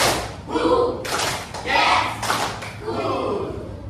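Children in a classroom lesson clap their hands in a counted one-two-three pattern, a few sharp bursts close by mixed with children's voices calling along.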